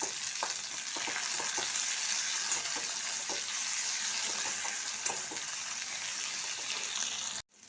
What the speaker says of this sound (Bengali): এবার পেঁয়াজটা হাফ ভাজা হয়েছে, এবার দিয়ে দিলাম একটা ছোট সাইজের টমেটো আর হাফ চামচ আদা আর